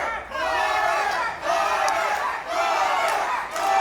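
A pro wrestling crowd at the Waco Lions Inn Event Center chants in unison, three loud rhythmic bursts with brief dips between them, close and energetic.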